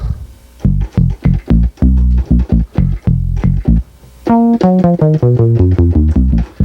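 A punchy synthesizer bass plays a rhythmic pattern of short, plucky notes, then moves into a brighter, more resonant run of descending notes, loud and alone.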